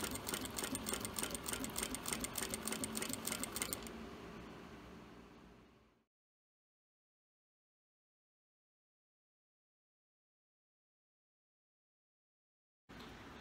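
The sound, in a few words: sewing machine topstitching synthetic leather wallet edge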